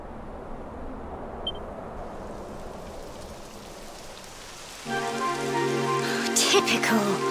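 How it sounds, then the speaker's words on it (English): Rain begins falling in a video game, a soft hiss of drops that builds louder partway through as a tonal music or game sound comes in beneath it. "It would have to go and start raining, wouldn't it?"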